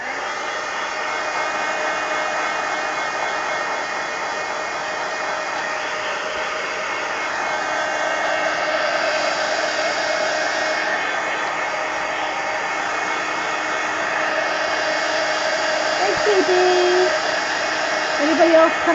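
A hair dryer blows steadily at close range over an altered collage book page, a constant loud whoosh lasting the whole stretch, with faint clicks toward the end.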